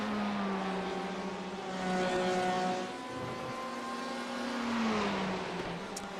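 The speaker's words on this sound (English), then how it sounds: "the Ferrari definitely the least inspiring noise machine of all these things" A Ferrari race car in the iRacing sim drones along with a steady, fairly quiet engine tone that rises and falls slightly as it passes, heard alone at a moderate distance.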